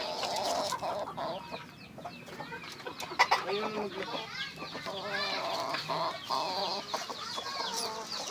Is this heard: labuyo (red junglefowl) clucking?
yes